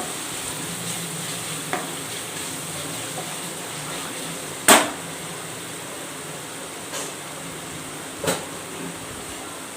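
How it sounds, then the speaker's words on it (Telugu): Spice masala fries lightly in a pan for an Andhra-style curry, a faint, even sizzle running throughout, punctuated by a few sharp clanks of a utensil. "ఇది కొంచెం మనకి లైట్గా వేగాలి, పచ్చివాసన పోయేంత వరకు వేయించుకుందాము"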